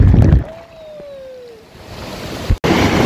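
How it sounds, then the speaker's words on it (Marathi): Sea waves roll and wash up on Kolthare Beach near Dapoli. Loud surf noise opens and closes the stretch, with a quieter wash in between, and no talking. "लाटा पण जोरात येत आहेत."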